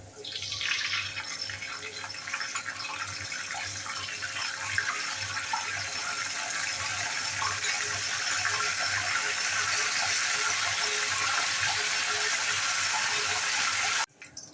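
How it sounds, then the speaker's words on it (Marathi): A loud, steady hissing sizzle of salt water hitting hot coconut oil while frying banana chips runs for most of the clip, then cuts off abruptly. "मिठाचं पाणी टाकल्यावर जो मोठ्याने आवाज होतो"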